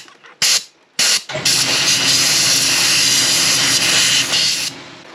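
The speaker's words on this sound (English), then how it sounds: "I'm sure you heard my air compressor kick in there" An air compressor in a workshop starts up after a couple of short bursts, then runs as a loud, steady broadband hiss with a low motor drone, continuing alone for several seconds before dropping off near the end.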